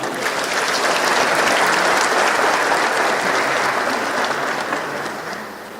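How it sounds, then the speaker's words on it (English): A large conference audience at the FICCI FDI Conference applauds Prime Minister Tariq Rahman and his delegation. Dense, steady clapping fills the hall without a break and eases off slightly toward the end. "Can we please have a round of applause?"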